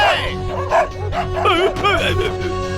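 Dogs in a Hindi-dubbed South Indian action film scene give a run of close, repeated barks and yips mixed with whimpers, layered over voices and a busy soundtrack.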